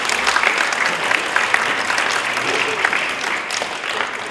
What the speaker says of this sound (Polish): Oklaskami przywitajmy.